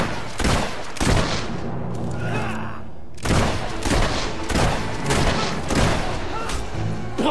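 Gunfire in the video game Fable 3: loud sharp shots burst out in clusters, a quieter gap around the middle, then repeated close blasts with booming low tails.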